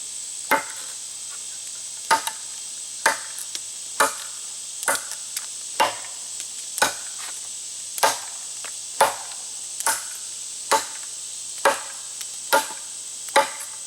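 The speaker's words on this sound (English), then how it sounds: "So let's show you how to do chopping." A WC Knives Bushtool, a full-tang steel knife, chops into wood in a slow series of about a dozen sharp, separate strikes spaced roughly a second apart, with a steady high hiss underneath and no talking.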